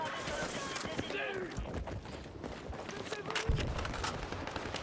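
Rapid bursts of gunfire from the war shooter Battlefield 6 and its BROD 3 weapon, dense crackling shots layered with game effects, loud and continuous across the whole stretch.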